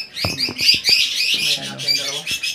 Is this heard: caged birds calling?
yes